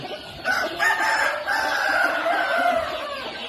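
Breeding roosters crow loudly nearby on a farm, several drawn-out calls overlapping with scattered clucking from other chickens, no talking.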